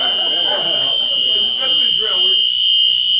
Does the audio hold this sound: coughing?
no